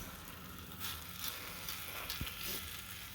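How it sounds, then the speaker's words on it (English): Bacon sizzles in a pan with a steady crackling hiss, faint and close, with a few small pops and no talking. "now you can hear that bacon sizzle a little bit more"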